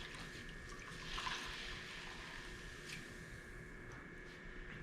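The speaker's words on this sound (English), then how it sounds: "now I'm sponging it like I'm getting ready to print it" Clean damp sponge wiped over an etching plate with a little water as it is readied for printing, giving a soft, steady wet swishing and rubbing close by, with a slightly stronger swipe near the start.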